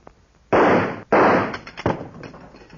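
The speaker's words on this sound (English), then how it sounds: "I think I can shoot that handle off." Two loud, close gunshots blast in quick succession as a revolver is fired at a vault handle in an old western, each with a long ringing tail, followed by a smaller metallic clatter.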